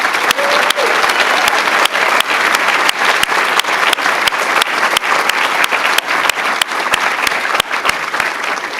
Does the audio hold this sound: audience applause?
yes